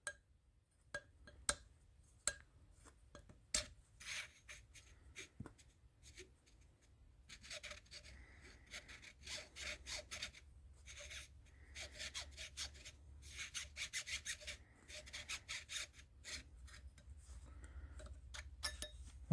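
Sandpaper rubs against a bushing for a Hercules water pump on a Cletrac E-62 tractor, first as sparse scattered ticks, then as close, quiet, rhythmic bursts of rasping strokes.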